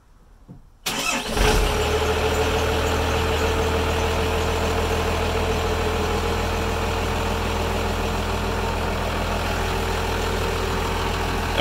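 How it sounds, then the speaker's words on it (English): A pickup truck engine cranks and catches, then settles into a steady, rumbling idle that continues evenly, close by. "go ahead and start the truck and we'll keep an eye on that sync light"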